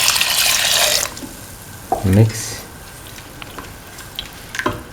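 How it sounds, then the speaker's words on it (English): Coconut milk pours into a stew pot of lentils and snake gourd, giving a brief liquid splash and gurgle followed by soft sizzling and a few faint drips. "Now pour in 250 ml of coconut milk."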